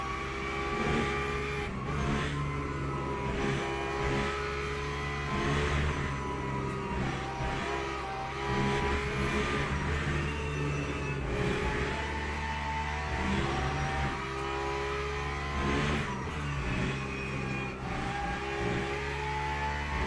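A Porsche race car engine in Le Mans Ultimate drones loudly and continuously at a racing pace, its pitch rising and falling through gear shifts over twenty seconds.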